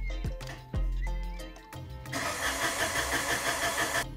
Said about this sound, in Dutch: Oké, hij is nu de auto aan het aanproberen te krijgen.